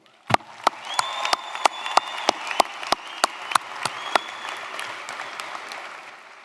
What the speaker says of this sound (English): How about a round of applause for the football team?